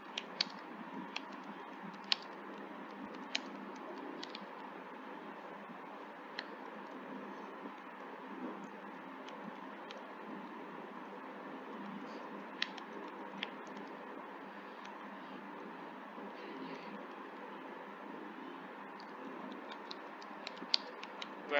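Steady typing on a computer keyboard while entering basic HTML for a web page, with continuous soft key taps and occasional louder clicks, faint and close, with no speech.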